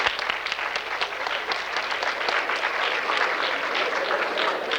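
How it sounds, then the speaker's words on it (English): Audience applause in the Portola Theater, a dense, steady wash of many hands clapping at once that holds at an even, fairly loud level throughout with no talk over it. "Give them applause. Give them a hand."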